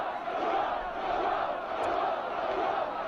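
A large crowd at a Trump rally in England roars and chants in a dense, continuous wash of voices, sounding somewhat distant and played back through a speaker.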